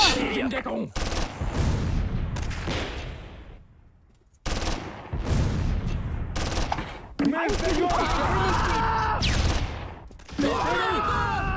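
Machine gun bursts and scattered rifle fire in the Close Combat III war game, repeated rattling volleys with short gaps, loud and close, with occasional whistling shell sounds.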